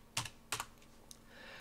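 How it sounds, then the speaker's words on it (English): Computer keyboard keys being typed at a command-line prompt, in two quick bursts of close, crisp clicks followed by a brief single tap, fairly quiet against a faint background hum. "I'm going to type in get GPS again to see if it made the change."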